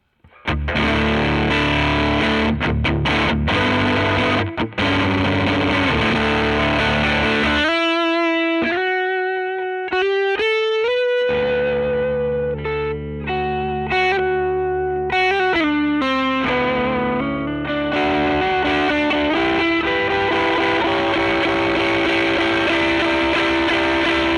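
A loud, heavily distorted electric guitar through boost and distortion effects plays sustained chords, then picked single notes and short riffs, thick and compressed, with no talking.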